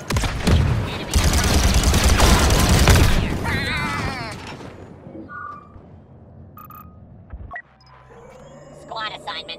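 Clone blaster fire in Star Wars Battlefront 2, loud rapid bursts of shots with booms packed into the first few seconds, then thinning into scattered distant fire and electronic beeps.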